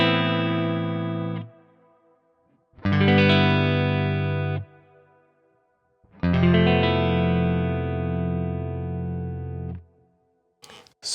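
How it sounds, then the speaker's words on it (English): Guitar chords ring out through an Aftermath reverb pedal in three sustained phrases, each swelling into a long, washy decaying tail with brief gaps between, loud and alone without voices. "So the reverb alone sounds like this."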